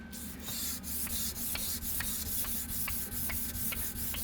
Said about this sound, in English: just rub back and forth like this. I mean, standard hand sanding.